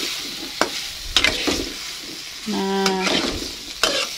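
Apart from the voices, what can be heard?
stirring tempe bacem with water in a pan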